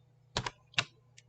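Three quick keystrokes on a computer keyboard during CSS coding: two close clicks, a pause, a third sharper click, then a faint tap, all close and crisp over a low steady hum, no voices.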